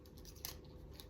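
Scissors snipping off a strand of yarn while tying sunflower petals, a single quiet, close cut in an otherwise still room.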